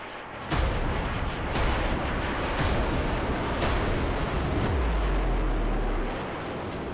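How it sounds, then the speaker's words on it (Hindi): An Indian Air Force fighter jet roars low past the Agra–Lucknow Expressway during the Gagan Shakti 2024 exercise, a loud, sustained rushing thunder with several sharp blasts, rumbling on before easing off. "पूरी रफ्तार के साथ ये लड़ाकू विमान हाईवे के करीब आया और फिर चंद सेकंड में उड़ान भरते हुए आसमान में ओझल हो गया।"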